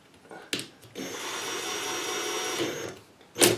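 A power drill fitted with a reamer spins up to ream a cork rod grip, giving a steady whirring whine for about two seconds between short bumps and a loud clack at the end.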